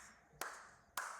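Two sharp hand claps about half a second apart, close and fairly quiet, in a quiet room.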